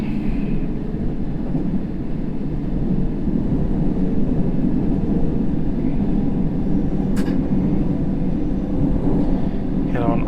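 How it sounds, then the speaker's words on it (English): A London Underground Circle line train rolls in during World of Subways, a steady low rumble of wheels and motor that holds loud and even throughout, with a brief high squeal near the end. "Another train coming in at us."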